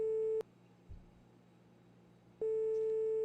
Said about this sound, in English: While we wait for this phone call to play out